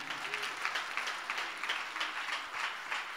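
A church congregation applauds steadily, a dense wash of many hands clapping at moderate volume throughout, with no gaps.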